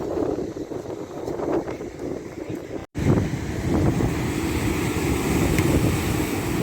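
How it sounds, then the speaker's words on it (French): Wind gusting across a seaside jetty, a steady broadband roar of microphone buffeting with a brief dropout partway through, no voices. "Il y a du vent, il y a du vent."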